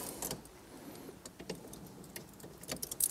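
A bunch of car keys for a second-generation Chevrolet Camaro jingles and clinks in short metallic bursts at close range, scattered through a quiet interior.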